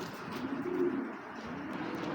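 Pigeons kept for flying coo softly nearby, a low rolling call that swells and then fades, heard alone without any talk.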